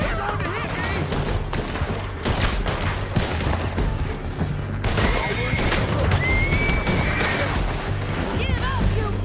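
Several horses whinny loudly amid chaotic battle noise in the video game Red Dead Redemption 2, with gunfire bursts, hoofbeats and shouting voices throughout.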